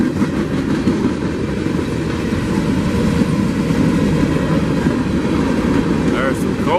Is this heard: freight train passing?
yes